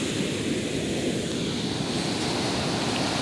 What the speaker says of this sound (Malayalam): ആ വേലിയേറ്റം തുടങ്ങിയതാ.